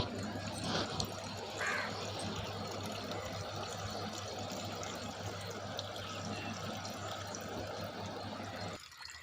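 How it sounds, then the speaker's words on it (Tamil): Crows caw a few times in the distance over a steady outdoor background hum, with faint water or other ambient noise throughout. "காகம் கத்துது குருவிங்க கத்துது"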